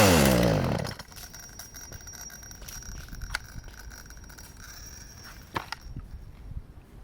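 A chainsaw being used for forest clearing roars loud at first, then drops off abruptly as the engine cuts out, leaving faint clicks, rattles and handling noises afterward.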